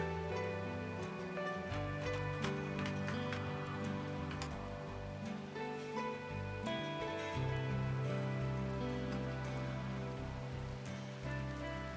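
Steady rain in the RimWorld video game, a continuous soft patter layered under a sustained tonal music bed, moderately quiet and unbroken throughout.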